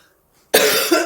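A person with a rough, strained voice coughs loudly and close up, a single harsh burst with a brief second push near the end, breaking abruptly out of silence.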